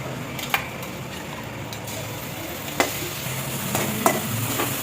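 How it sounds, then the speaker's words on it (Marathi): Green chillies fry in hot peanut oil in a heated kadhai: a soft, steady sizzle runs throughout, broken by a few sharp scrapes and taps of stirring. "तर आता तेलामध्ये लगेच मी मिरची टाकून घेते."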